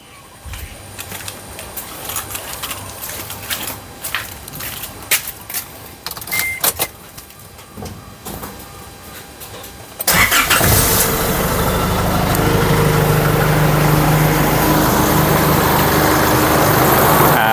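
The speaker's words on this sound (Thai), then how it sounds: "อ่านี่นะครับกดเปิดแล้วแล้วก็ อ่าเดี๋ยวไปลองสตาร์ทดูนะครับ" A car engine cranks and catches about midway, boosted by a cheap portable jump starter clipped to the battery, then settles into a steady, loud idle after a stretch of quiet clicks and handling noises.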